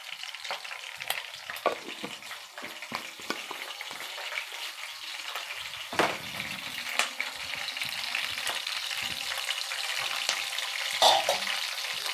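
Green chilies, cumin seeds, a little fenugreek and curry leaves fry in hot oil for a tamarind curry, giving a steady crackling sizzle with sharp pops and stirring scrapes throughout, close and fairly loud.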